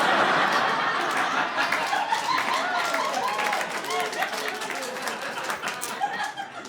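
A comedy club audience claps and laughs after a joke, a burst of applause and chuckles that starts loud and gradually thins as a few scattered claps and snickers linger.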